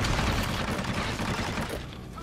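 Rapid gunfire in the video game Hitman: Absolution, a dense continuous barrage of shots through the whole stretch, loud and close, with a voice mixed in underneath.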